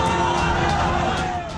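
A street protest crowd in Araria, Bihar shouts slogans, a dense, loud babble of many voices with rhythmic chanting bursts throughout.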